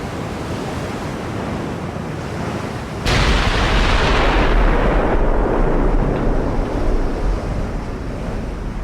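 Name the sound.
battleship gunfire in video game Ultimate Admiral Dreadnoughts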